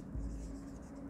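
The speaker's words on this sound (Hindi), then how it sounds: "यहाँ पर हम लिखते हैं" Pen writing an answer by hand on paper during an accountancy class lesson, a steady close scratching over a low background hum, with no talking.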